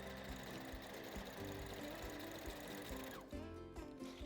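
A sewing machine stitching a seam: a fast, steady mechanical chatter of the needle running continuously up close, easing into slower, sparser stitching near the end.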